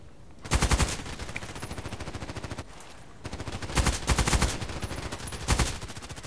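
Pistol fire in Call of Duty Cold War: rapid, fairly loud shots ring out in quick clusters over a steady, dense rattling bed of sound, broken by a brief lull before resuming.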